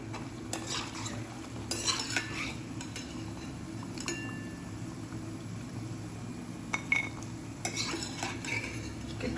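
Bhakharvadi snacks fry quietly in oil in a home kitchen, a soft steady bubbling broken by occasional stirring scrapes and light metal clinks of a utensil against the pan.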